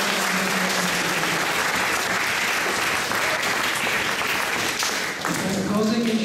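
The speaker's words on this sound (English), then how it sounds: "So give them a big hand of applause." A large audience at an Islamic Foundation volunteer appreciation event gives a loud, sustained round of applause, thick and continuous from start to finish, with voices murmuring under the clapping.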